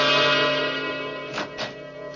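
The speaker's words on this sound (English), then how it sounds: "Doorbell." A doorbell chime rings in a radio mystery drama, a sustained ringing tone fading out, followed by two short softer strikes; clear and close with no voices.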